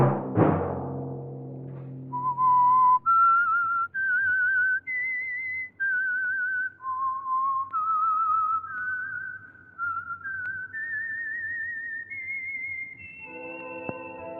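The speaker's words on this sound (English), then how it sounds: "Let that whistle be your signal for the Signal Oil program, The Whistler" A lone whistled theme melody for the radio mystery program The Whistler, a slow eerie tune of sustained, gliding notes, clear and close, closing on a short orchestral chord.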